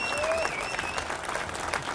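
Audience applause for activists at a Movimento 5 Stelle citizens' event in Brescia: a steady wash of many hands clapping, moderately distant, with faint whistles and crowd noise running throughout.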